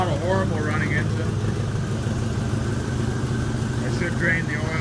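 The engine of a 1986 Oldsmobile Cutlass Supreme sedan idles steadily and fairly loud and close, a constant low rumble with a little vibration, while a person talks over it.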